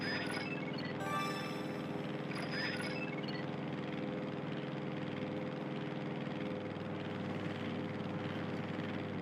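A plane flying slowly in a Wii video game, a steady droning engine hum held at an even level throughout, with brief higher game tones near the start.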